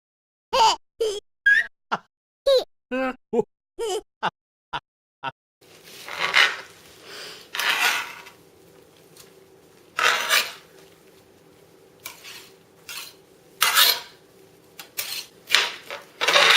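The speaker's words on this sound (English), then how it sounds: "I'm going to chop that into even slices." A knife taps sharply against a cutting board in a quick run of evenly spaced chops through a banana, followed by softer scraping and shuffling sounds.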